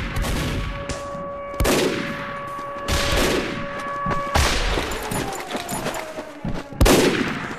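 Heavy gunfire and explosive bangs in Team Fortress 2, several loud booming volleys spaced a second or so apart, each ringing out with a long decaying tail over a steady background tone.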